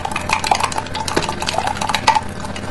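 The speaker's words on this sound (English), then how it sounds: "Give it a stir." A utensil stirs about a gram of copper sulfate dissolved in water inside a container, producing quick bright clinks and scrapes in a busy, close run with no speech.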